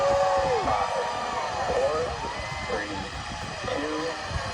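A SpaceX rocket lifts off from Space Launch Complex 40 on NASA's 30th Commercial Resupply Services cargo mission. A loud, steady broadband roar fills the whole stretch while a person talks over it.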